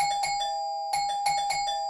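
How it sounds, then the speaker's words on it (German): A doorbell rings in a children's audio drama, a bright repeated chiming pattern sounding twice with a short pause between, clear and close with no voices over it. "Es klingelt schon"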